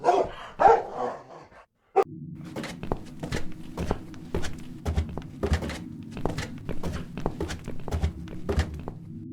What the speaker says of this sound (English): This dog is making quite a racket.